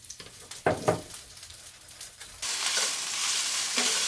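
Salmon and orange marmalade sauce cook in a pan with a gentle sizzle and a few nearby clinks of a utensil, then the frying swells into a louder, steady crackle partway through.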